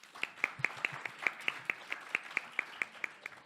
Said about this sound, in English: Can we have a round of applause for the motion team?